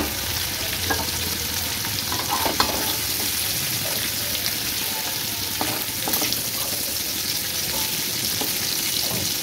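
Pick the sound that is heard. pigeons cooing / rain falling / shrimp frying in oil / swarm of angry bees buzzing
shrimp frying in oil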